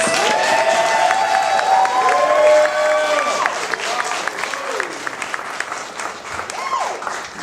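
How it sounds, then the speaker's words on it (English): An audience gives another round of applause for volunteers of a youth orchestra, a steady wash of clapping with a few cheers that gradually thins out. "Can we give them one more round of applause?"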